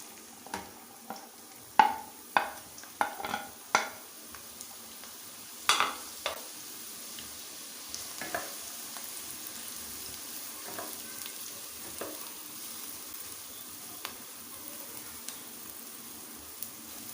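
Onions frying in hot oil in a pan, a continuous soft sizzle broken by sharp crackles and stirring scrapes, close by and fairly quiet, with no speech.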